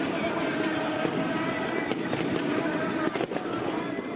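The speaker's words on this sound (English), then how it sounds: "Police firing tear gas, rubber-coated bullets and water cannon to disperse the demonstrators." Police firing tear gas and rubber-coated bullets to disperse anti-government demonstrators: a dense, continuous roar of crowd and street noise with several sharp cracks and pops punching through, fairly loud throughout.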